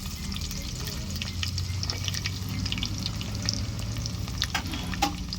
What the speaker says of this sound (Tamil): வெங்காயம் கொஞ்சம் நிறம் மாறுற அளவுக்கு நல்லா வதக்கிக்கலாம்